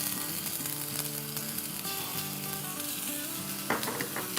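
Garlic, about a teaspoon, sizzles steadily in hot oil in a pan for a Chinese chicken and noodles dish, a close, even frying hiss with a few sharper crackles near the end.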